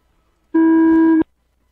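A single steady electronic tone lasting under a second signals the start of an indoor RC car race, loud and clean against near silence with no talk.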